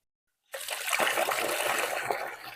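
Fish wash water for making fish amino acid fertiliser is poured out in one sudden, loud gushing splash that starts abruptly and runs steadily, close by.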